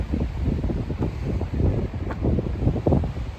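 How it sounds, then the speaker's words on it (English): Strong gusting wind on the Appalachian Trail buffets the microphone with a constant low rumble and irregular surges, with no voices. "It's super windy."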